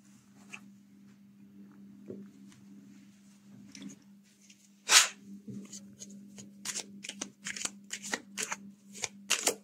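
Tarot cards are shuffled near the microphone: quiet handling at first, then a run of crisp riffling bursts in quick irregular succession, with no speech.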